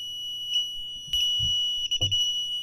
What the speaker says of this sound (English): so now our system is in alarm